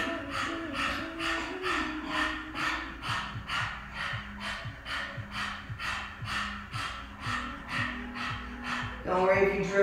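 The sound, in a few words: panting like a dog with tongue out, yoga breathing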